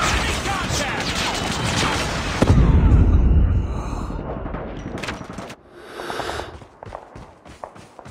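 A Predator missile strike in the Call of Duty Mobile video game lands as a loud, booming explosion amid continuous gunfire, followed by lighter crackling shots and game effects as the blast fades.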